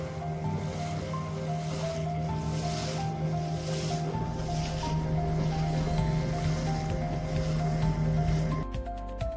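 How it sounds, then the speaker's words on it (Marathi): Boat ride on the sea at Tarkarli, a steady engine drone with a low hum and tonal whine, mixed with wash of waves and wind, continuous and fairly loud. "आपण बोटीनं जात आहोत."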